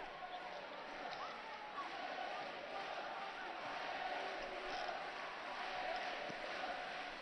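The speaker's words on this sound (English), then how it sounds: "the crowd are cheering Olivier Bleu" Crowd cheering at a London 2012 Olympic women's handball quarterfinal between France and Montenegro, a steady, distant roar that fills the arena without pause.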